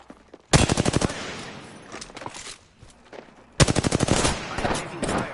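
Video game gunfire arrives in two loud, rapid automatic bursts, one near the start and one past the midpoint, with quieter scattered shots and movement between them and no speech.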